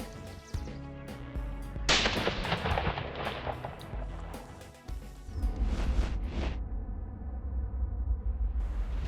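A Remington shotgun fires during a spring turkey hunt in Nebraska, a loud close blast followed by sharp cracking report and a long rolling echo fading over several seconds, with outdoor rustle after.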